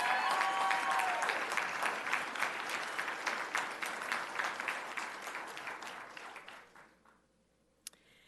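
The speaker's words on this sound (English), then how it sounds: "One more round of applause for Rockridge High School." Audience applause for Rockridge High School at the Loudon County State of the County Address, a dense, loud clapping that tapers off over several seconds into near silence, with one sharp clap near the end.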